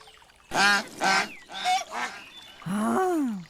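Geese honk loudly nearby in a run of five or so harsh, nasal calls, the last one drawn out.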